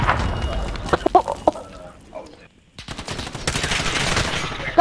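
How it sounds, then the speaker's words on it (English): Bursts of rapid gunfire ring out in a Call of Duty match, loud and close, cut by a brief quiet gap before the shooting resumes with more dense volleys. "Guns."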